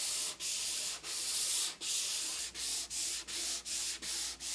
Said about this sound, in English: I'm going to go ahead and hit it with some 400 grit sandpaper